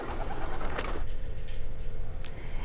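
Pigeons coo softly amid a busy, noisy background at a pigeon farm in Dhaka, with a brief high chirp near the end.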